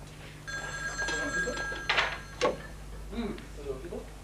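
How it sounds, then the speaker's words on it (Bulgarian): A telephone rings with a bright trilling bell in a domestic scene, repeated bursts ringing over mechanical clatter while people speak nearby. "Телефона, тя ще вдигна."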